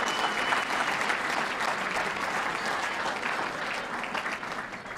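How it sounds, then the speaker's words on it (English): Audience applause fills a school Mardi Gras spirit gala for an all-boys high school, a dense, steady wash of many hands clapping at once that holds evenly throughout with no voices above it. "Give yourselves a nice round of applause."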